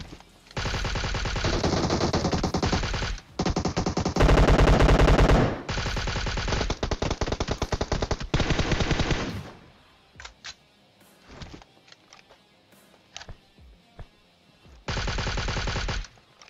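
Loud automatic gunfire from weapons in the mobile battle royale game PUBG Mobile, long sustained bursts close up for about nine seconds, then scattered distant shots before one more heavy burst near the end.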